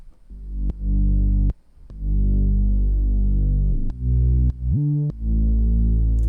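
Deep, throbbing electronic sub bass centered between 40 and 80 hertz holds long sustained notes, with a few sharp clicks and pitch slides between phrases, loud with no voices.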